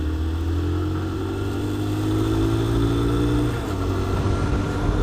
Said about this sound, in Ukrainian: Якось він дуже погано працює, цей карбюратор, таке відчуття, що не на, не налагоджений.